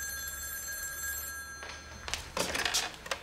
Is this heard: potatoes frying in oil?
no